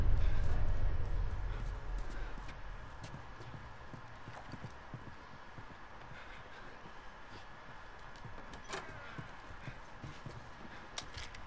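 Horse hooves on the ground in The Last of Us, played on hard mode, make a steady clip-clop running through a busy, noisy backdrop, with a possible faint voice.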